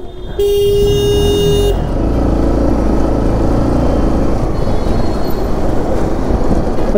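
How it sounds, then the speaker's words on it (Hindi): Busy night road traffic in Mumbai rumbles steadily and loudly, with a long car horn blast early on and other vehicles droning and passing close by throughout. "इतनी सारी गाड़ियाँ होती है कि भाई साहब गाड़ी चलाना मुश्किल हो जाता है"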